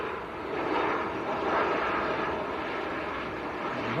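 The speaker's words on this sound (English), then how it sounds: "This is Ryanair from Seville in Spain." A Ryanair Boeing 737 MAX from Seville roars steadily at Manchester airport, a broad, sustained jet rumble swelling slightly and holding loud and fairly near throughout, with no voices over it.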